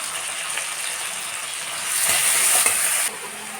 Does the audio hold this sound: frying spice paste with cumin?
yes